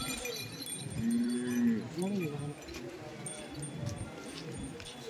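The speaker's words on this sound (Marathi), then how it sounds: "गावरान बैल आहे." A local native bull lows once in a deep, drawn-out call at the Dondaicha bull market, rising above a steady hubbub of crowd voices and market chatter.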